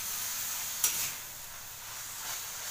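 Garlic tempering sizzles faintly in a pan as it is stirred, a soft steady hiss with one sharp scrape or clink near the start, no voices present.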